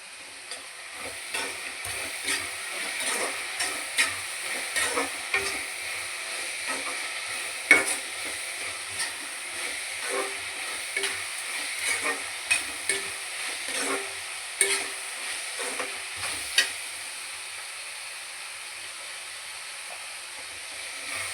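Steady sizzling of onions sautéing in a pan, with scattered sharp pops and scraping clicks, continuous and fairly close, no voices.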